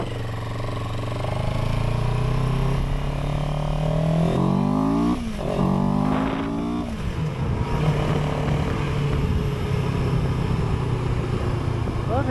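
A CFMoto 700CL-X Heritage motorcycle engine runs steadily while riding, with a sustained loud drone, a couple of rising and falling revs in the middle, and wind noise throughout.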